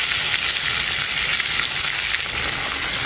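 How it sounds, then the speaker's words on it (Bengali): Hog plums fry in oil with turmeric and salt, giving a steady, close, dense sizzle that holds at an even loudness throughout, with no voices over it. "আমড়াগুলোকে তেলের মধ্যে আমি খুব ভালো করে ভেজে নেব।"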